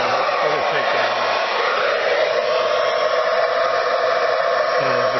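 A hair dryer blows steadily and loudly at close range, heating an Arduino-controlled fan enclosure on a LattePanda 3 Delta board, a continuous even whoosh with no voices.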